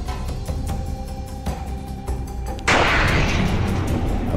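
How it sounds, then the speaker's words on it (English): The Chelyabinsk asteroid exploding in the atmosphere about 23 km above the city shortly after sunrise, with a force equal to 440 kilotons of TNT. A sudden loud boom breaks in and becomes a sustained, roaring rumble. "A massive explosion equivalent to 440 kilotons of TNT."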